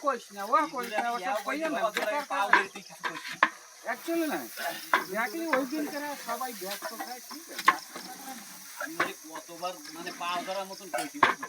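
Ginger garlic paste frying and being stirred in a large pan during cooking for a village feast, with a steady sizzle and scraping stirs under ongoing talk.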